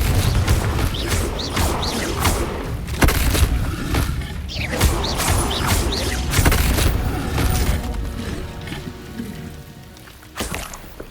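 Confringo spell blasts in the game Hogwarts Legacy, with repeated loud booming explosive bursts and crashing debris spread across the clip, over a busy background of effects.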